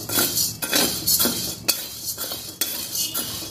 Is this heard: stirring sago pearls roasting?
yes